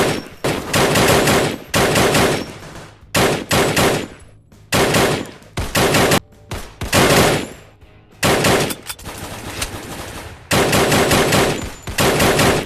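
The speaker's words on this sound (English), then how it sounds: "I love that gun sound, and it's why I use it so often." PT-8 gun in the VR shooter Crisis VRigade 2 fires in loud, rapid bursts, each a few seconds long and separated by short pauses, with punchy automatic reports dominating the whole stretch.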